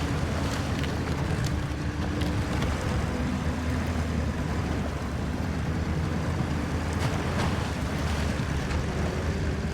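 A vehicle floating along a river in Expeditions, giving a steady wash of water and wind-like rushing noise with occasional soft splashes, fairly loud and constant throughout.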